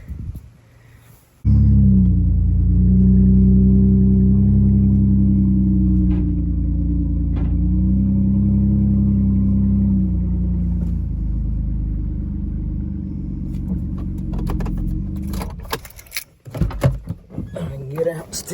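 A wrecked Ford Escape with no radiator idles with a loud, steady low rumble close by as it is driven onto a trailer. The engine cuts off near the end, followed by clunks and rustling.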